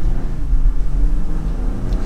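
A 2022 Jeep Gladiator Willys pickup accelerating while shifted manually, heard as a loud, steady low engine drone and road rumble from inside the cabin, with slowly drifting engine tones and no talking.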